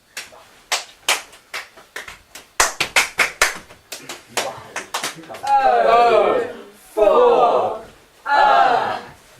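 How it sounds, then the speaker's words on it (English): A group of actors passes an energy clap around, sharp single claps hopping person to person in quick irregular succession, then giving way to bursts of voices and laughter. "When we did that energy clap just now, passing it around"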